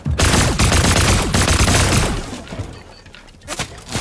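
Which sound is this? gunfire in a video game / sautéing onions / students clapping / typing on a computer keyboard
gunfire in a video game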